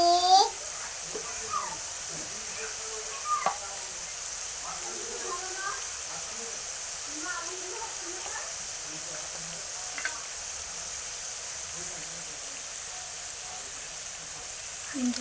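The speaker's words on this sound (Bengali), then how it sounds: "নিমকিগুলো ভাজা হচ্ছে" Nimki pastries deep-fry in oil with a continuous soft hiss and sizzle, broken by occasional light clinks and spoon stirring, while faint voices sound in the background.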